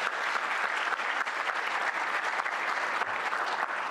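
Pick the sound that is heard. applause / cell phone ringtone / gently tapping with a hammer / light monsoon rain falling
applause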